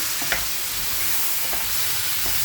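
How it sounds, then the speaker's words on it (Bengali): Sautéing with cumin, coriander and turmeric paste in a pan, a dense steady sizzle with a few faint scraping stirs, close up and free of speech. "জিরে ধনে হলুদ বাটা হলুদ গুঁড়ো দিয়ে এটাকে কষিয়ে নেবো"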